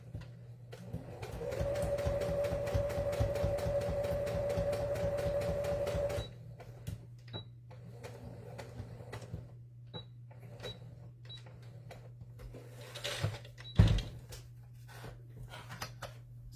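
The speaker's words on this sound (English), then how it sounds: "I just sewed that piece of ribbon onto my little tag" A sewing machine stitches ribbon onto a small paper tag, giving a close, rapid rhythmic clatter that runs for several seconds before stopping, followed by quieter handling clicks and taps.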